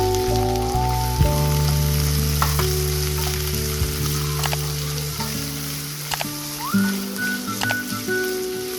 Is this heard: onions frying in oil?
yes